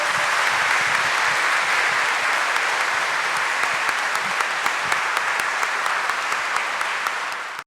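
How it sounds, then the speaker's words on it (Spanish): A church congregation clapping for the Virgin of Copacabana at a feast-day Mass, sustained dense applause with a few sharper individual claps standing out, steady and loud before tapering off at the end. "palmas para ella"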